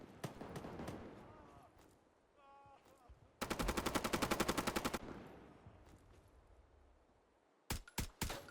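Rifle fire from an L119A2 in the Roblox game Deadline: a fast automatic burst of rapid shots in the middle, with scattered single cracks before and a few louder shots near the end amid game noise.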